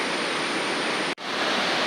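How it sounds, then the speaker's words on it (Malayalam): A waterfall runs beside a steep uphill road, making a loud, dense, steady rush of falling water. The roar breaks off for an instant before resuming at the same level. "ഒരു കയറ്റമുള്ള റോഡിൻ്റെ പാരലായിട്ട് പോകുന്ന വെള്ളച്ചാട്ടം"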